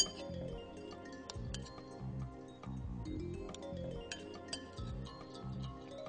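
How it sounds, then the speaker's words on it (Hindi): A spoon stirs grated carrots and onions into a salad dressing in a glass bowl, giving repeated soft clinks and scraping taps at an irregular pace, close and quiet, with no speech. "और इसको अच्छी तरह चम्मच के साथ मिला लें।"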